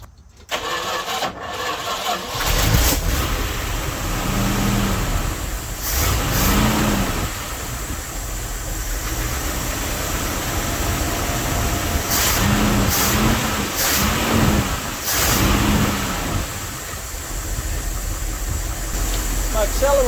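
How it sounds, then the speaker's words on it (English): A 1979 Dodge W300 truck engine cranks several times in bursts, catches, and then runs loud and steady as it warms up, with occasional revs rising over the idle. "I'm gonna go start it up and let it warm up"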